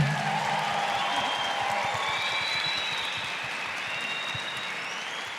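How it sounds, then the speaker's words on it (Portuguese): Sustained applause from a large audience at a CPAC Brasil 2021 conference, dense steady clapping that fades slightly toward the end, with no speech over it. "Uma salva de palmas para a ministra Damares, novamente."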